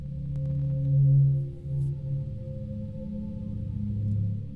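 Guitar sample from a Bitwig sound library: a sustained, droning low tone with steady held harmonics and a gentle swell, moderately loud and heard alone.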